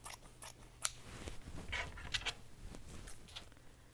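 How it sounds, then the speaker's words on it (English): Quiet snipping of scissors through fabric for burp cloths, a series of soft irregular cuts close by with faint rustling between them. "I'm going to get my scissors and just go right down the side here"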